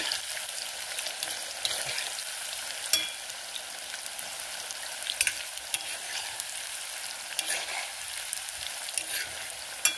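Thin slices of bitter gourd, seeds left in, sizzle and fry steadily in hot virgin coconut oil in a pan for chutney powder, a continuous crackling hiss with occasional stirring clinks, close and alone.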